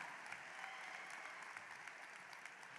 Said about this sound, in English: Clap for Tanan Ponpol.